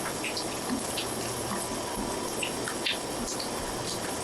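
Water dripping from melting icicles makes a steady wet trickle with scattered small drips and patters throughout, fairly close and continuous.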